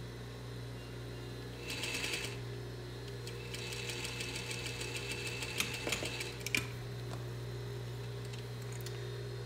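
A sewing machine stitches a dart on a doll dress, its motor humming low and steady while bursts of rapid needle clatter start and stop in several short runs, moderately close, with no talking.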